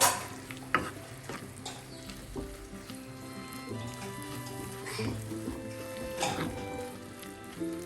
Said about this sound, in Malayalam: വീണ്ടും എല്ലാം കൂടെ ഒന്ന് മിക്സ് ചെയ്യാം